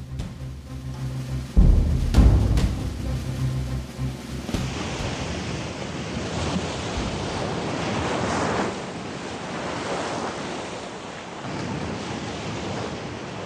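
Sea waves surging and breaking on the southern coast, used as a radio drama sound effect: a loud, low rumbling crash early on gives way to a steady, hissing wash of surf with some wind noise, no voices.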